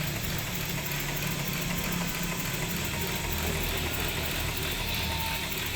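A steam engine runs unsteadily, its speed rising and falling, making a loud, continuous, dense mechanical roar with a rough, churning texture and no gaps throughout.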